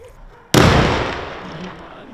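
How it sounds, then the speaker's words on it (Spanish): A single sharp, loud blast from a police controlled detonation of an abandoned car at night, striking suddenly after a quiet moment and then rumbling and fading over the next second and a half. "Una detonación controlada que dejó a más de uno despierto."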